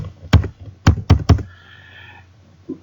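A few crisp keystrokes on a computer keyboard, a quick single tap followed by a rapid run of three, as a formula is typed into a spreadsheet in a quiet room.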